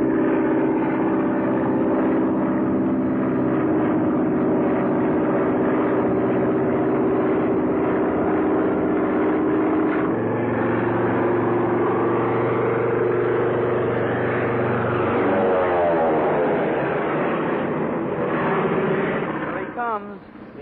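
A steady propeller-engine drone as an airplane flies in, from a 1938 aviation film, with a shifting engine tone partway through. Voices talk over it throughout.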